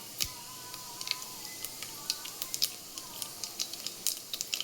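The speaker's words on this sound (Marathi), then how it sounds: "मोहरी चांगली तडतडून देऊया." Mustard seeds splutter in hot oil in a pot for a sambar tempering, a quiet scatter of sharp, irregular pops and ticks over a faint hiss.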